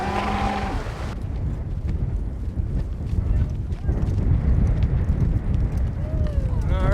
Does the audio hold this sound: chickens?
no